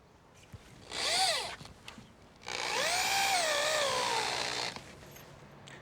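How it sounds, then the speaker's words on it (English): A power drill pre-drills a pilot hole in a composite deck top rail. There are two bursts, a short one and then a longer one of about two seconds, each with a whining motor pitch that rises and falls against a quiet background. "we're pre-drilling a little pilot hole"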